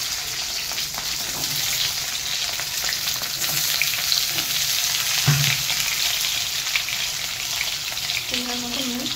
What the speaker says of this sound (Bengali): আমি প্রথমে একটু আলুগুলো আর এই সবজিগুলো একটুখানি তেলে নুন দিয়ে নাড়াচাড়া করে দেবো